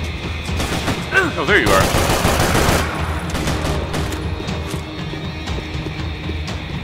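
Rapid gunfire in the shooter game Max Payne 3 crackles in bursts, with loud volleys around the first few seconds and sharper scattered shots afterward, as someone speaks briefly over it.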